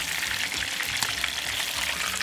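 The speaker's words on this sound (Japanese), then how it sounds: "一旦裏返して、こちらが白くなるまで、これでもう揚げてください。" Pork steak frying in oil in a pan, a steady dense sizzle with crackling pops, close and loud throughout.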